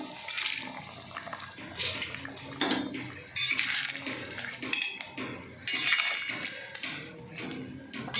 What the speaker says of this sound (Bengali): বন্ধুরা আমি জল ঢেলে দিলাম, আর একটু দেবো জল